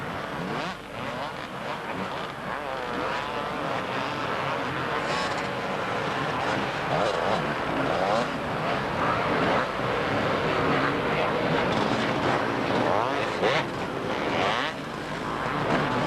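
Several 125cc Honda motocross bikes racing on Southport beach in 1992, a continuous loud blend of two-stroke engines buzzing and rising as riders pass through whoops, with no pause.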